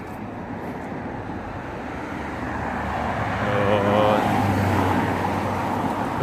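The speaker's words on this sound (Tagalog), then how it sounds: "Pasensya na kayo mga kabayan kung sobrang ingay kasi nasa tabing kalsada lang kasi ito eh." Roadside traffic in Gangseo-gu, Busan, on an autumn day: a continuous broad roar of passing vehicles that swells as one draws nearer and louder mid-clip, then eases slightly, with no talking.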